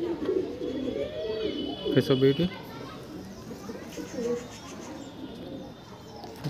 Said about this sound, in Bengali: Andhra কালচেরা single male Payra